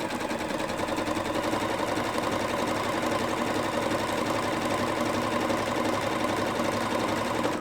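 Sewing machine running continuously while stitching a wide zigzag on an applique piece: a steady, rapid mechanical chatter at an even moderate volume for several seconds, close by and with no voices.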